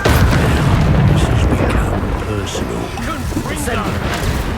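Confringo fire spell blast in the video game Hogwarts Legacy, a heavy booming explosion with a dense rumbling tail that lingers for several seconds, loud and close, with voices talking underneath.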